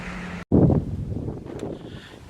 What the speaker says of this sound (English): It is pretty damn windy,